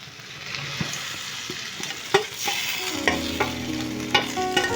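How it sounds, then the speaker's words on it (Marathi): Boiled potatoes drop into a hot pan of green chilli and cumin tempering and get stirred, a soft sizzle punctuated by repeated scraping and knocking of a spoon against the pan. "आता आपण बटाटा टाकूया"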